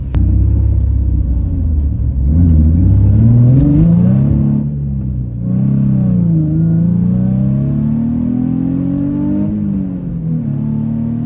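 Nissan 350Z engine revs hard while accelerating, a loud, close rumbling drone whose pitch climbs and sweeps across the run, easing briefly midway before pulling again.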